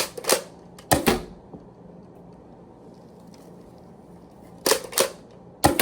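A Dart Zone foam dart blaster fires with sharp mechanical snaps in pairs, two near the start and two more near the end, with a quiet gap between them.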